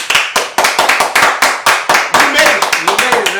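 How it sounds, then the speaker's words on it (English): A group of people clapping to celebrate a show's season finale, a burst of quick, irregular claps close to the mic, with voices chattering underneath toward the end. "Can we clap it up?"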